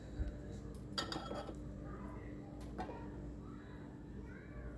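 Cooked rice spooned over masala in a pot for a prawn biryani, heard as a few soft metallic scrapes and clinks of a spoon against the pot, faint and close, with quiet background noise.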